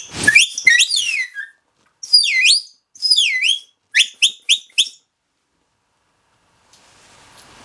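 A dog training whistle blown up close: a few warbling, trilled blasts with sliding pitch, then four quick sharp pips, each alone and loud, followed by near silence.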